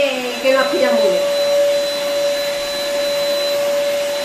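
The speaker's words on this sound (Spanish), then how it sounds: "pasó una aspiradora sin cable, tiene bastante succión" A cordless Dyson V8 vacuum cleaner runs steadily with a sharp, constant high whine, close and loud, while a person speaks briefly over the start.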